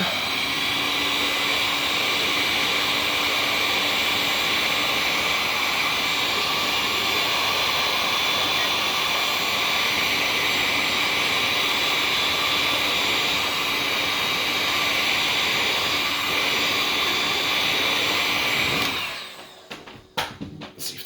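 Heat gun blasting hot air to melt glue inside a lightsaber hilt, a loud continuous roaring hiss that holds steady for about nineteen seconds, then cuts off into light handling clatter.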